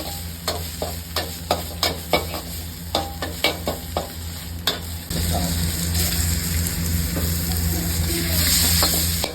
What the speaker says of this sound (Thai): พอใส่น้ำมันไปแล้วเนี่ยเราก็คนไปเรื่อยๆนะครับอย่าเพิ่งใช้ไฟแรงนะ